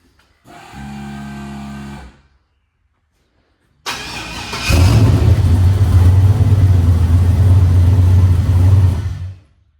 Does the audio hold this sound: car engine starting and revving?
yes